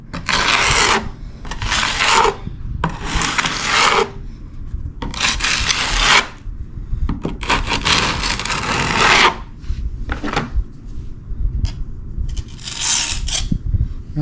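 A trowel works and levels Henry 345 patching compound on a subfloor, producing repeated close, rough scraping strokes in bursts of a second or two, separated by brief pauses.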